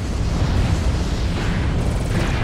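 In the MechWarrior Online video game, a destroyed mech blows up in a loud, dense, rumbling explosion lasting a couple of seconds, with heavy low boom and continuous noisy roar.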